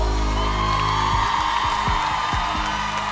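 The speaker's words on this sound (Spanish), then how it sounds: "Los aplausos." Live concert crowd cheering and whooping, a dense roar of audience noise with scattered shouts, loud and continuous with music fading underneath.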